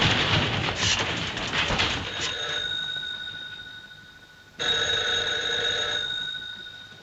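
Old-fashioned telephone bell ringing in a 1939 film, a loud rattling ring for about two seconds, a pause, then a second ring with sustained metallic tones fading out.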